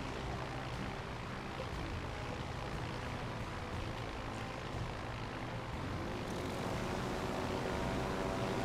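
Propeller planes drone overhead during a naval battle in World of Warships Legends, a steady engine hum with the rumble of the fight beneath it and no talking.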